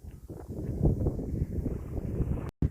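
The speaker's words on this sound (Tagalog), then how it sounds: "Ang lakas ng hangin." Strong wind rushes and buffets the microphone in a continuous low roar, cutting out abruptly near the end.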